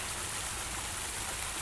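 A waterfall spills into a backyard koi pond, a steady close hiss of splashing water with no break or talk.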